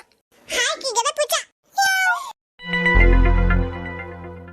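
A few short meows from a kitten close by, followed by a sustained, higher cry; no background noise between them.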